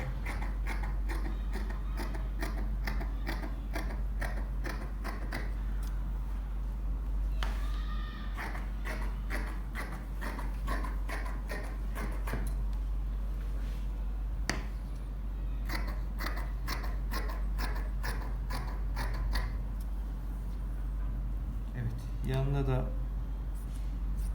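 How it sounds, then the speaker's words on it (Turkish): Scissors cut through fabric for a shorts jumpsuit in long runs of rapid, crisp snipping and creaking blades, near and steady, with a short rustle and a voice speaking in the background. "Geldim arka yüksekliğimi kesiyorum."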